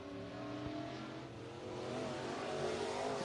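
Race cars rolling out onto the I-75 Raceway speedway in Niota, Tennessee, their engines a steady, moderately distant drone that swells slightly toward the end, with no talk over it.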